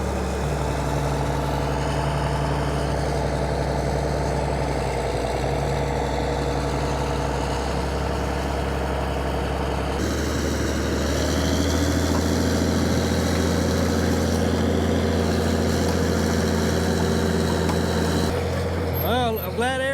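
Old Caterpillar machine's diesel engine idling with a deep, steady low rumble and droning mid tones, close and continuous, shifting slightly in pitch partway through, with someone talking over it.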